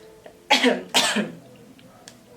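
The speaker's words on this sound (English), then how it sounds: "I got a cough still." Two sharp coughs come in quick succession, close and fairly loud, followed by quiet.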